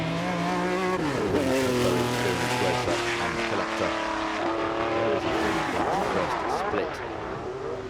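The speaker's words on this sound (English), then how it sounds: "Mighty Ferrari 712 Can-Am car. Must be quite some beast to thread up this narrow strip of asphalt here at Goodwood." A Ferrari 712 Can-Am race car roars up the narrow asphalt hill climb at Goodwood, its engine note rising and falling loudly through gear changes over eight seconds, with a commentator talking over it.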